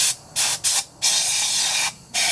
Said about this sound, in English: Get some lube before we turn it over. As a rust inhibitor.